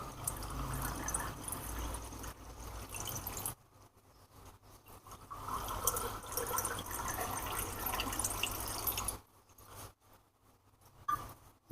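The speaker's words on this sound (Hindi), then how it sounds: "आप इसमें पानी ऐड करते हैं।" Water is poured into glasses to make masala sikanjbeen, a spiced lemonade-style summer drink. It sounds like a steady splashing fill that stops briefly partway through, then resumes and tapers off, with no one talking.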